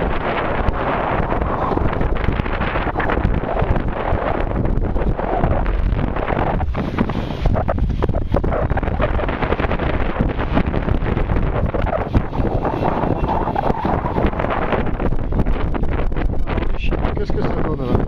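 Strong wind buffets the microphone on a small boat out at sea in about 13 knots of breeze, a loud continuous roar and rumble with gusty swells, water and hull noise mixed in, and a voice partly buried in it.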